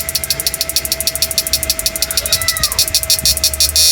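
A boat engine on a Susan 1020NP is started with a push button, then runs with a rapid, even pulsing idle and a rising whine, close and loud.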